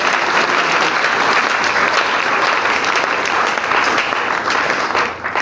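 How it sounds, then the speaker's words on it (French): A church congregation applauds for God, a loud, dense wash of clapping that fills the room steadily for several seconds before thinning slightly at the end. "Est-ce qu'on peut acclamer pour le roi de Dieu?"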